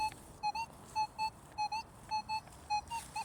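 Repeated two-tone metal detector signals, each a short high electronic warble, sounding about every half second over faint outdoor ambience during a hunt, with no talking.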